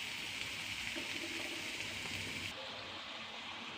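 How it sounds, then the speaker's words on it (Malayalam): Water poured into a pan of vegetables with turmeric and salt, a steady close rushing splash lasting a few seconds and then easing off into quieter hiss. "ഞാൻ കുറച്ച് വെള്ളം ഒഴിച്ചിട്ടുണ്ട് അതിലേക്ക്."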